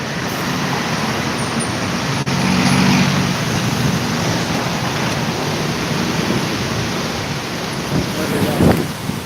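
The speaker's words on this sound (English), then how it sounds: "So here I am doing what I call dodging traffic." Street traffic in Bangkok makes a dense, steady roar of passing cars and motorbikes close by, with a few louder swells and bumps.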